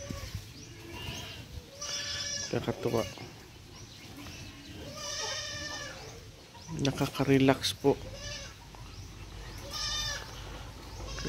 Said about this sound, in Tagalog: Tingnan yung mga kambing natin guys.